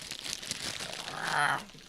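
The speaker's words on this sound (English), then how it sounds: "Little plastic bag to open up." Brief crinkling of thin plastic being handled and pulled open, growing louder near the end before stopping.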